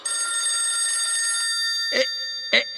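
In an audio drama, a telephone rings as a sound effect: a sustained electronic ringing tone followed by two short, sharp ring bursts, heard alone without talk.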